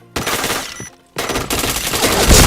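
Loud automatic gunfire from the shooter video game Point Blank rattles in rapid bursts, cuts out for a brief pause, then resumes in dense continuous fire with a heavy thump at the end.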